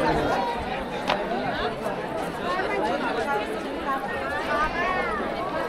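A crowd of pilgrims queues for darshan at the Mandhardevi temple, a busy babble of many overlapping voices and chatter close by, steady throughout with occasional louder calls.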